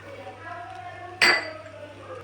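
Potato poha with coriander leaves being stirred in a metal pan gives a single sharp spoon-on-pan clink, close and brief, against a quiet background hum.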